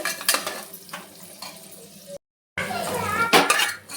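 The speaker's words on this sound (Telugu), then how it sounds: "మసాలా దినుసులు ఫ్రై అయిన తర్వాత ఇందులోకి ఆనియన్స్ యాడ్ చేస్తున్నాను. ఇలా ఆనియన్స్ ఫ్రై చేసుకోవాలి." Onions fry with whole spices in a pan for egg pulao, a moderate sizzle with stirring and utensil clinks, a short silent gap midway, and faint voices in the background.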